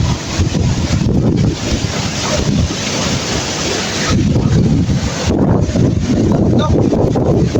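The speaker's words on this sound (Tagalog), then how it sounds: "grabe ka hangin" Strong wind roars through a forest as a constant loud rush, buffeting the microphone with low rumbling gusts that swell and ease over several seconds.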